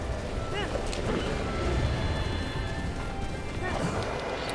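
Hooves of a galloping horse in Zelda: Breath of the Wild, a steady rapid clip-clop over a busy game soundscape with a few whinny-like chirps.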